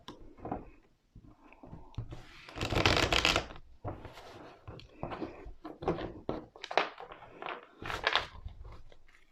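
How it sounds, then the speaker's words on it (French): Tarot cards shuffled by hand and laid down in a series of soft riffling bursts and light taps, close and fairly quiet, with no talking. "je vais tirer cette carte"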